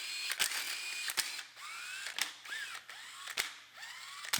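Bolts coming out of a Honda Civic timing cover: a string of sharp metallic clicks and ratchet ticks at irregular intervals, close by, with faint sliding metal sounds between them.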